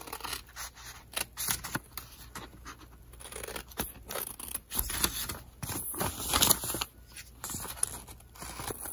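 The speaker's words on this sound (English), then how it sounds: "now I'm going to cut the templates out" Scissors snip through paper templates for a fabric face mask, a quiet series of irregular close cuts with rustling and crinkling of the paper between snips.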